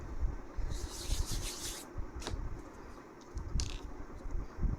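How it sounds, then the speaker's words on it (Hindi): Hands rubbing talcum powder between the palms, a soft close dry friction sound that swells and fades in short bursts, with no talk. "हाथों पर मैं टैल्कम पाउडर रब करूँगी"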